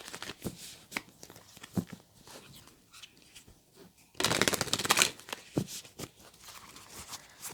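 A deck of oracle cards is shuffled by hand, with soft riffling and flicking sounds at close range, rising into a loud, dense shuffle burst midway before settling back into lighter card handling.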